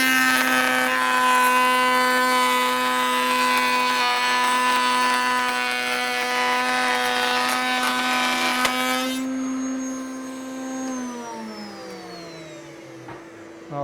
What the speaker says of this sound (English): So let's load this into our sled here now, and we'll make our pattern cut on the other side.